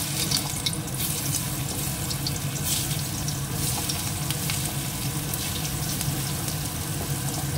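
Salted, turmeric-coated pointed gourd fries in oil in a wok, a steady loud sizzle and crackle running continuously with no speech.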